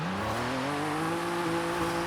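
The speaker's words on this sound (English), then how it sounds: "it's a V6, but it sounds like a four cylinder to be honest" Toyota Camry TRD with a V6 engine revving, a rising harmonic engine drone that climbs steadily in pitch, loud and close with no talk.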